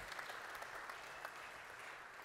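A congregation at a men's church retreat applauds, a soft, distant, continuous patter of many hands with no break.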